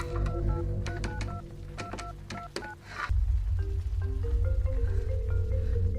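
A telephone is dialed to call for help from a shop: a quick run of sharp keypad beeps over a steady low hum, followed by a deep droning tone once the dialing stops.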